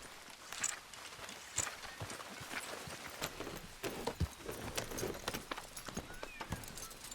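Horse hooves clip-clop at a walking pace in a video game ride, a quiet, uneven series of soft hoof knocks with faint background ambience and no speech.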